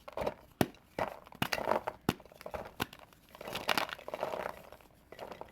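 Gym chalk, a block like the Rage brand, is crunched and crumbled in a hand, giving a run of crisp, close crackling snaps in irregular bursts with no talk.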